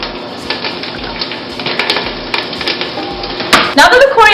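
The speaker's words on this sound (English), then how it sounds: "Now that the coriander is nice and fried" Chopped coriander fries in a pot with a steady close sizzle and crackle, some stirring clatter and a louder burst of spitting near the end.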